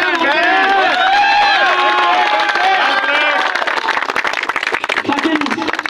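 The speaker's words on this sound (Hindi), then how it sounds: "एक बार जोरदार तालियां।" A crowd at a sports event applauds a runner-up team captain with loud, dense clapping and cheering, along with some shouts, and the clapping thins toward the end.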